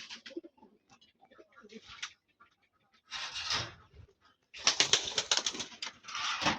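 Racing pigeons in a loft give low murmuring coos and soft flutters, then bursts of louder rustling and wing flapping nearby, in short uneven bouts.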